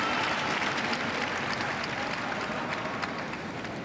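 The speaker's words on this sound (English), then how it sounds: "Let's take the applause and go and have a glass of something cold and fizzy." Spectators applaud after a boccia medal match at the Paris Paralympics, a dense, continuous roar of clapping from a large crowd in an arena, steady throughout with no clear speech.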